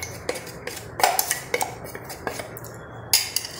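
A spoon clinks and scrapes in a kadhai as peanut and coconut powder is fried in desi ghee, giving a string of sharp metallic taps in an uneven rhythm at close range.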